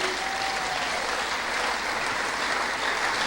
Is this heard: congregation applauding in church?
yes